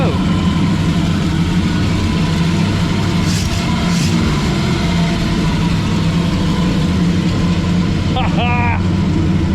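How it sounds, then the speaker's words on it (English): A 1966 Ford Mustang engine running after 40 years of sitting, with a steady, loud idle rumble throughout and a brief squeak or whistle near the end. "we got a running 1966 Mustang. It does live."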